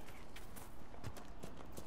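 Horse hooves clip-clop across ground in the fantasy video game Dragon Age Inquisition, a quiet, uneven patter of steps set against low background noise and ambient game sound.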